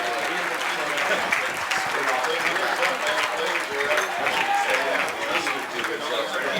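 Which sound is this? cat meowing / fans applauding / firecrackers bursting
fans applauding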